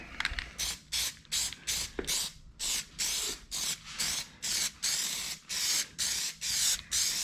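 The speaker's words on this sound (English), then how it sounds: "I'm gonna spray this." Rapid repeated bursts of aerosol spray hiss in a steady pulsing rhythm as a coating goes onto a vehicle roof, each short blast separated by brief pauses, close and fairly loud.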